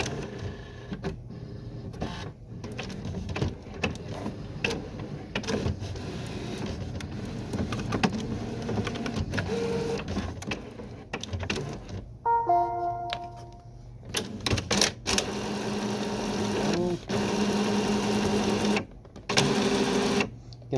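An HP Photosmart inkjet printer whirs and clatters as its feed rollers turn, mechanical feeding noises starting and stopping in bursts, fairly quiet and close.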